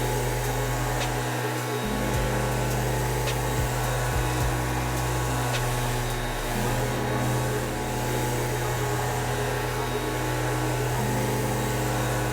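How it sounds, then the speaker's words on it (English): An electric sander runs over wooden desktop boards, smoothing the uneven seam between two boards, a loud continuous motor whine and grinding hum whose pitch and load shift as it moves across the wood. "the sander does help out quite a bit there"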